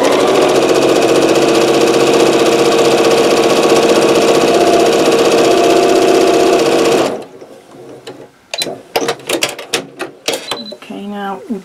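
A sewing machine stitches quilt fabric in a steady, loud mechanical whir for about seven seconds, then stops, followed by a short, quiet clicking and handling sounds.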